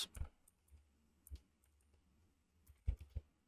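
Soft computer keyboard typing comes in a few scattered bursts: a couple of isolated clicks, then a quick cluster near the end. The keystrokes are faint and close, with quiet gaps between them and no voices.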